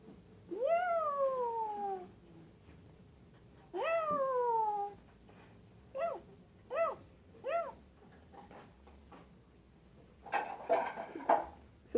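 Cat wearing a new collar meowing indoors, two long drawn-out rising-and-falling meows followed by several short chirpy meows in quick succession, close and clear, with some light clattering of dishes near the end.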